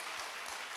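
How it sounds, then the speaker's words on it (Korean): A congregation applauds God at a Korean revival prayer meeting held at a mountain prayer retreat: a soft, steady wash of many hands clapping, fairly distant and faint, with no talk over it. "하나님께 박수해요"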